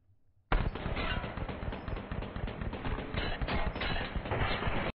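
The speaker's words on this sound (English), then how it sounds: "start firing as I move out before I even see them" Automatic weapon fire in Apex Legends starts abruptly after a brief quiet moment, then keeps going as rapid, close, loud bursts of shots with no talking.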